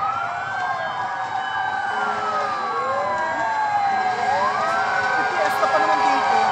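Several fire truck sirens wail and sweep over one another at a fire, loud and continuous, with vehicle rumble underneath.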